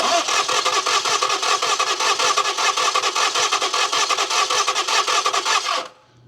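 Car engine cranking without catching on a crank-no-start fault: a loud, close, rapid rhythmic starter churn runs steadily for about six seconds, then cuts off abruptly into quiet.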